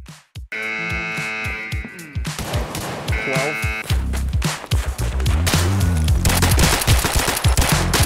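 Rapid gunfire from a first-person shooter, Escape from Tarkov on the Reserve map, cracks out in dense bursts and sustained automatic fire, loud and close, with game music and voices mixed underneath.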